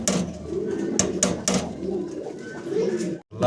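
A black Roman pigeon, a large young fancy pigeon, coos close up in low repeated throaty bursts, with a few sharp clicks and rustles mixed in and a brief dropout near the end.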